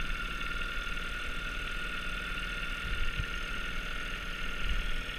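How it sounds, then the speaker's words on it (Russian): A small outboard motor drones steadily while towing a boat with a smashed bow toward shore, a continuous mid-pitched engine hum with no breaks across the clip. "моторчик тянет ее к берегу"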